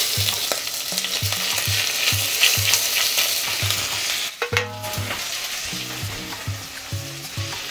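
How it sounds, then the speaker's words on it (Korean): Beef stir-frying in sesame oil for seaweed soup, a dense close sizzle broken by rhythmic knocks and scrapes of a spatula against the pot, briefly dipping before the frying resumes. "소고기를 넣어서 볶아줍니다"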